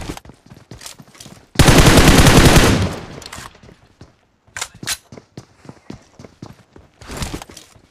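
A loud, rapid burst of automatic gunfire in a mobile squad shooter game lasts about a second and a half. Scattered sharper shots and clicks follow before and after, with no talking.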